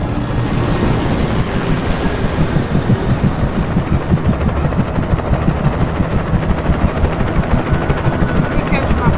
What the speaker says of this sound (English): They got helicopters out here for me too?